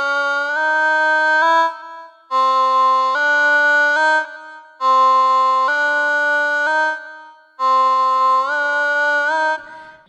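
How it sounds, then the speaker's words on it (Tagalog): A talkbox vocal effect from a Zoom V3 vocal processor plays four sustained, buzzy synth-voiced phrases, each a bright stepped chord with pauses between, clean and alone. "So, sa talkbox, ito yung tunog ng talkbox natin."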